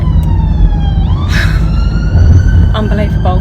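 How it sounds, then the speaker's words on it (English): An ambulance siren passing close by a moving car, a loud rising wail that sweeps up and then cuts off in short bursts over steady road rumble. "Yeah, look, ambulance, told ya."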